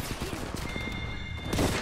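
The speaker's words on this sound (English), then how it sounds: "Taking shots here. Taking fire." Rapid video game gunfire crackles as a dense, steady burst for nearly two seconds, fairly loud and continuous, with a heavier blast near the end and a faint voice underneath.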